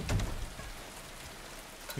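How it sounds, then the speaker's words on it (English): Rain falling on a rooftop in the Silent Hill 2 Remake video game, a faint, even patter of drops with a soft low rumble, heard alone without talk. "Oh, it's raining."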